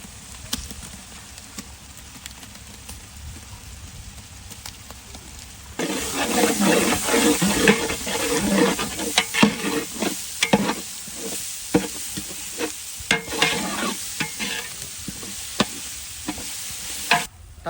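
Green chilli, ginger and garlic paste hits a hot pan and sizzles loudly after a quiet start, with repeated scraping and clinking stirs over the steady frying hiss.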